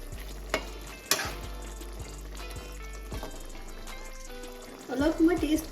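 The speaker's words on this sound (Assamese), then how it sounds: "এই গৰম মছলাটো দিয়াৰ পিছত আমি ভালকৈ বস্তুটো আকৌ লৰাই দিম" Assamese fish curry being stirred in a pan after garam masala goes in, with scraping strokes, knocks against the pot and a soft sizzle that swells toward the end while someone speaks.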